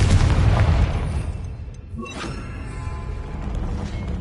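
A Confringo blasting spell explodes in Hogwarts Legacy, a loud low boom that fades into a rumbling tail and then a quieter hum of background ambience.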